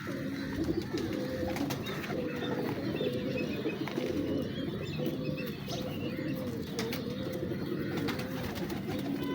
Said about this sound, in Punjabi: ਇੱਧਰ ਵੇਖੋ ਹੁਣ ਇਹ ਮੀਆਂ ਨਜ਼ੀਰ ਵਾਲਾ ਮੈਂ ਕਬੂਤਰ ਹੱਥ 'ਚ ਫੜਿਆ